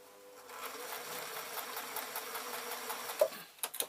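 A sewing machine running a continuous straight stitch on a fabric toy parachute, a close, even mechanical buzz that holds steady and ends with a few small clicks.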